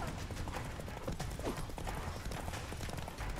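Roach, a horse in the video game The Witcher 3, gallops with a quick, steady run of clip-clopping hoofbeats that stays fairly quiet and even throughout.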